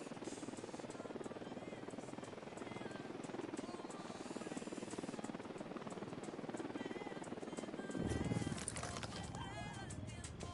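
A helicopter's rotor thrum churns beneath busy game-style background noise in Ghost Recon Wildlands, with a brief louder rumble near the end.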